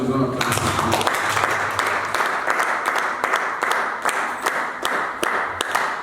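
A church congregation applauding steadily, a dense wash of many hands clapping continuously with some individual claps standing out, loud and close, with voices mixed in underneath.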